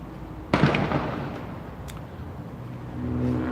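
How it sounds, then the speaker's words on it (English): A sharp burst of fireworks goes off beside a railroad, followed by crackling pops and a lingering rumble, with a faint low hum of traffic underneath. "Somebody's throwing fireworks at Mike."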